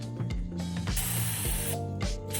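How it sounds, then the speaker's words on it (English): Oil sprays from an aerosol can onto the back side of a K&N air filter, several short hissing bursts up close, separated by brief pauses. "I'd also spray it this way so you get the back side of it too."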